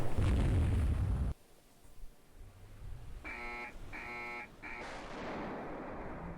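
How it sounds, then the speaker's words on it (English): Anti-ship missiles fire and impact during a naval battle in the Rule the Waves 3 wargame. A loud roaring blast cuts off abruptly, followed by a quieter rumble and repeated electronic buzzer-like alert tones. "Anti-ship missile duel here."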